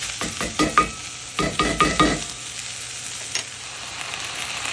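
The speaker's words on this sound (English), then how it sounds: "I got that spinach in there, and I'm going to just carefully get this like turned over and mixed in" Spinach sizzles loudly in a hot pan as it is stirred and turned, with several bursts of scraping and crackling frying in the first two seconds, then a quieter steady sizzle with one more brief stir.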